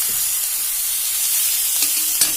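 Cabbage and noodles for a veg spring roll stuffing sizzle steadily in a hot pan, a loud, close, continuous hiss of frying with a few faint scrapes of stirring near the end.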